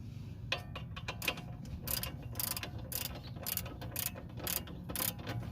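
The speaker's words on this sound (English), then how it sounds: "now I'm gonna go ahead and tighten those up. So let's see, this is a 17 millimeter socket," A ratchet with a short 17 mm socket tightens brake bolts on a 2005 Toyota Prius, giving quick bursts of close clicking with brief pauses between strokes, fairly quiet against faint background noise.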